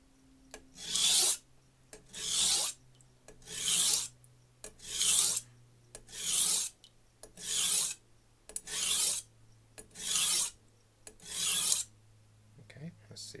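A knife is drawn across a diamond plate sharpening stone in about ten even, rasping strokes, each a loud, close scrape separated by short pauses.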